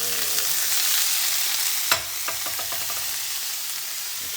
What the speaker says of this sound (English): Then we're adding the Shaoxing wine.